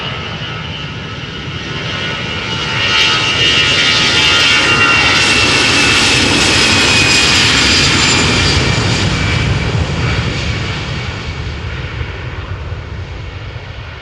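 An Aer Lingus Airbus A320, fourteen years old, roars through a takeoff run at Amsterdam Schiphol, its loud jet engine noise building and then holding steady as a broad sustained rush before easing slightly.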